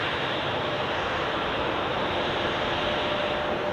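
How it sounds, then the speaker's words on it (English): An Air Europa Boeing 737-800 departing for Madrid from Zurich Airport, heard as a steady, dense jet engine roar that holds loud and even throughout with no voices. "let's take a look at this Air Europa 737-800"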